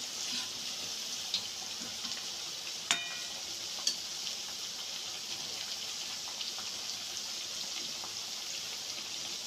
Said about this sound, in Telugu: ఇలా కలర్ వచ్చేంత వరకు వేయించుకోవాలండి.